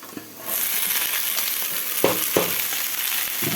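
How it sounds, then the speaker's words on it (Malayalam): Okra sizzles and crackles steadily in a pan of coconut oil at close range, with a couple of sharp clacks of stirring partway through and no voices. "വെണ്ടയ്ക്ക ഇട്ട് കൊടുക്കാം"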